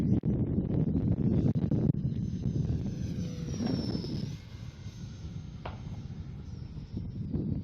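A Freewing L-39 RC model jet with an 80mm ducted fan roars steadily overhead, a loud rushing whine with wind buffeting the microphone throughout.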